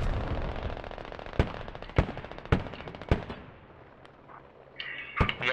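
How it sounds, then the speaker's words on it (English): Video game artillery fire booms out in a string of sharp, loud blasts spaced about half a second apart over a rumbling battlefield bed, then a couple more hits near the end. "Artillery's coming in."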